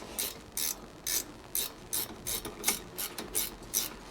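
A ratchet wrench tightens a bolt on the front brake of a 2016 Ford Mustang, giving a series of short, regular clicking bursts close by, about two per second.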